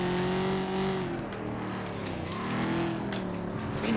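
In the FlatOut 2 video game, a race car engine drones steadily at high revs, close and continuous with slight pitch swells as the car cruises, and no voices over it.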